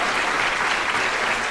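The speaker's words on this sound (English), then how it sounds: "let me give him a round of applause there" A short burst of steady applause from a live audience, a dense even wash of clapping with no gaps and no voices over it.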